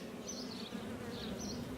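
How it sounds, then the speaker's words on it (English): Dark-colored honeybees buzz at an open hive during an inspection, a steady, faint droning hum with individual bees zipping past now and then. "But there's a bee right there being dragged out."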